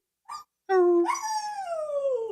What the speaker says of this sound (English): I don't know if you hear my dog.